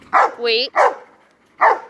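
A chained dog barks and yips several times in quick succession, loud and close, with a brief whine between barks.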